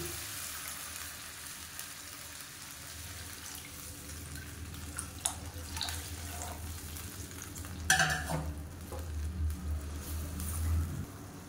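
Bone broth poured into a pan of sautéed tomatoes for Madurai-style mutton rib bone soup, with a steady sizzle and stirring, and a louder burst of liquid splashing in around the middle that settles back into frying.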